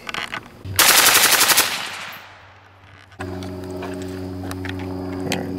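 A Steyr AUG rifle with a suppressor plug fires a short, loud, rapid full-auto burst, then falls quiet before a steady mechanical hum takes over.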